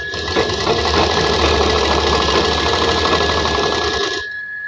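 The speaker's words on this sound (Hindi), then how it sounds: "यहाँ तक देखिए हमने सिलाई कर ली।" Sewing machine stitching the lining of a ladies' trouser pocket, running in one steady, close, continuous burst for about four seconds before stopping abruptly, with no talk.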